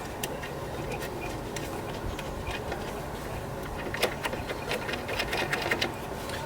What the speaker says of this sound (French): Donc je dévisse les 3 vis